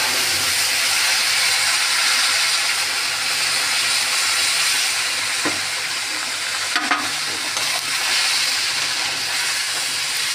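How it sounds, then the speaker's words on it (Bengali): Milk poured into hot caramelized sugar for a semolina (suji) sweet sizzles and hisses steadily and loudly throughout, with a brief louder burst partway through and no voices. "এবার দুধ দিয়ে দিলাম।"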